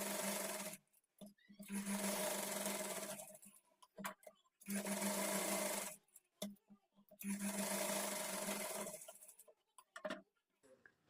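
A sewing machine stitches blouse fabric in three steady runs of fast mechanical whirring, each lasting a couple of seconds. Short pauses with soft handling clicks fall between the runs, all close and fairly quiet.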